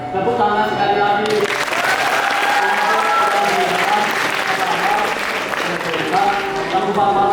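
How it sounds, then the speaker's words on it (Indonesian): Audience at a university language-program drama performance applauds after the show, with steady dense clapping and some crowd voices, loud and sustained throughout with a background music tone underneath. "Tepuk tangan sekali lagi."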